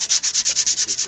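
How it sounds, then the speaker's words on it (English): Regular sandpaper rubbed back and forth to remove a burr from wood, making about ten quick, even, rhythmic scraping strokes, close and steady, with no talking. "just regular sandpaper takes the burr right off of it"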